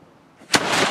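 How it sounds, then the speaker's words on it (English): A historic cannon fires once at a reenactment demonstration in St. Augustine, Florida, a single loud, close blast with a long rumbling tail after a brief quiet lead-in. "Cannon, look, watch."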